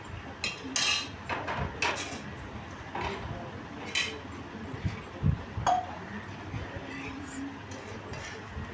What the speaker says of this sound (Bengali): তো জল দিয়ে ভালো করে কড়াইটা ধুয়ে নিচ্ছি